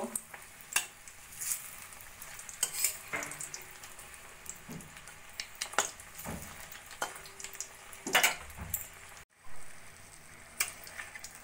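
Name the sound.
mini rolls frying in a pan, being flipped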